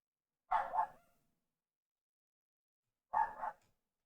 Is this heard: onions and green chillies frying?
no